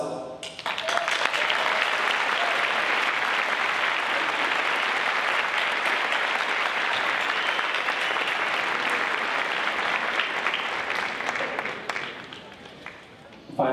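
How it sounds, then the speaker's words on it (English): Graduating seniors of the Class of 2018 rise and applaud their families at a high school graduation ceremony, a sustained roar of many hands clapping across a large audience that swells quickly, holds steady for over ten seconds, then fades. "Seniors, let's stand and give them a round of applause."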